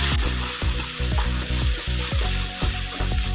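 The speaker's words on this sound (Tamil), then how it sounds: "இந்த மாங்காய் நல்லா எண்ணெயிலையும் வதங்கி வரட்டுங்க" Grated raw mango sizzles steadily in hot oil in a pan, a constant close frying crackle broken by regular scraping strokes of stirring, with no talk.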